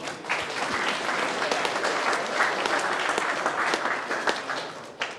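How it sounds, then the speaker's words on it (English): Studio audience applauding at a live Roblox creator show, a dense steady wash of many hands clapping that holds loud and even throughout, with a few sharper claps standing out near the end. "Give yourself a round of applause."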